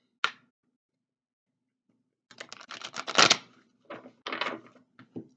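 A deck of tarot cards is shuffled close up in quiet: a single snap, a pause, then a burst of rapid riffling flutters and a few short shuffles.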